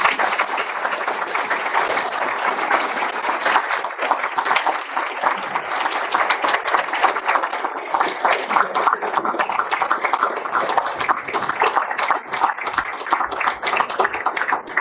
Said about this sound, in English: round of applause for all of our students